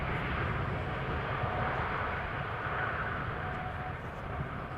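A distant airliner at Amsterdam Schiphol Airport produces a steady, broad engine roar that holds at a constant, moderate level throughout without a clear rise, with no talk.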